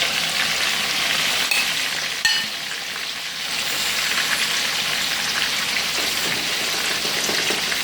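Onions frying hard in a pot for a Jamaican pork rib stew, a loud and steady close sizzle with a brief clatter near the middle and no talking.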